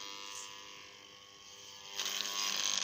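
An energized test rotor with soldered connections gives off a faint steady electrical hum, which swells into a brighter, louder buzz partway through and holds there.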